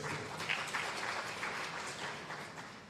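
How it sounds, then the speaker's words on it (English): Applause at a sexual and reproductive health conference for a speaker named Daniel, a soft, fairly distant spread of clapping from a modest crowd, steady and unbroken for a few seconds. "Another big hand clap for Daniel."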